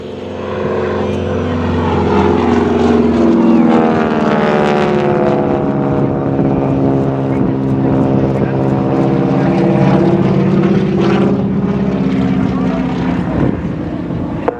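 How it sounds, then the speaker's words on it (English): A heavy AT-6 propeller plane, nearly 3 tons, drones loudly and steadily overhead at an air show, its engine pitch rising and falling as it swoops through a long aerobatic roll. "It's a heavy airplane, isn't it, Bill?"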